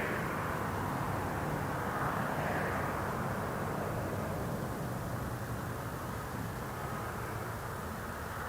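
A Southwest airliner moves along the ground at Las Vegas airport, giving a faint, steady distant jet roar and broadband wash that swells slightly early and then holds, with no voices.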